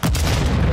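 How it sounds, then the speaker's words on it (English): A loud, close RPG explosion in the video game Call of Duty: Modern Warfare II on PS5 makes a brief, dense booming roar that fills the whole moment with no voices. "There's always gotta be an explosion that kills me."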